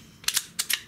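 Two pairs of sharp, snappy pops from a Xisico Sentry .177 caliber PCP air rifle, each a quick double crack, fairly close and clear against a quiet background.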